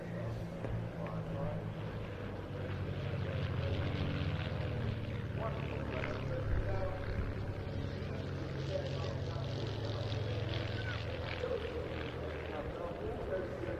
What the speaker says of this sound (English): Now the aircraft about to split